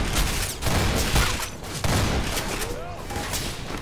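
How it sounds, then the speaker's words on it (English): Gunfire and sniper shots in the video game Entropy Zero 2, several loud close bursts in quick irregular succession, with a voice talking beneath the shooting. "I'll just keep taking fire from every direction"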